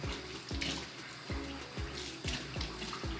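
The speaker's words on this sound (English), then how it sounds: "I'm just gonna re-wet it in the sink." Water runs steadily from a sink tap as curly hair is re-wet, a constant close splashing flow with faint rhythmic thumps underneath and no talking.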